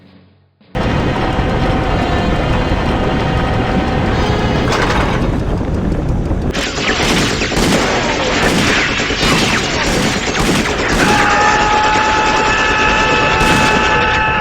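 Gunfire from the 1999 video game Indiana Jones and the Infernal Machine, loud sustained bursts of shots that shift in character partway through, with rapid repeated cracks dominating throughout and no talking.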